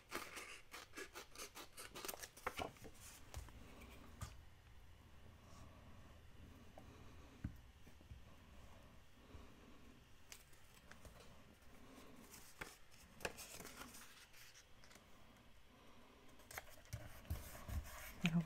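Scissors snip through old magazine paper scraps for a collage, a close, quiet series of sharp crisp cuts in irregular clusters with soft paper rustling between them.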